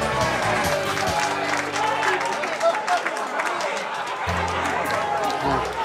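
A packed Wall Street trading floor crowd claps to welcome a new trader, the clapping folded into a dense, loud wash of chatter, shouting and floor noise throughout.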